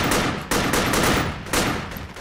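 Loud, close gunfire in the Project Reality military shooter comes as sharp repeated shots at roughly half-second intervals. Each crack trails into a dense echoing wash.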